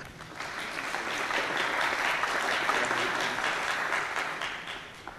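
Audience applause breaks out during a technical conference presentation after a SQL Server 2014 failover demonstration, moderately distant clapping that swells, holds steady, then tapers off.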